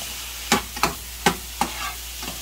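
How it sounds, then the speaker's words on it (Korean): Noodle soup garnish stir-fried in a pan, with about five distinct scraping stirs in irregular rhythm over a soft, continuous sizzle, close up and without talking. "살짝 볶아"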